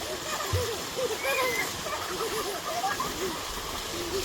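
People bathing in a village water pool, heard as soft, intermittent water splashes and sloshing under nearby children's chatter and voices.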